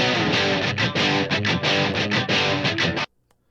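A dense pop-rock production bridge with heavy distorted, filtered layers pulsing in choppy rhythmic bursts, loud and full, then cutting off abruptly to near silence; no talking.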